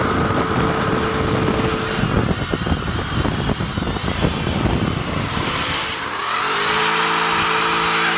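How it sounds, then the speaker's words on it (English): A Jaguar XF-RS roars loudly at close range as its engine revs hard and the rear tires spin into smoke, a harsh sustained blare that dips briefly, then settles into a steadier rising engine note. "I have never seen another car that can turn tire into blinding toxic smoke"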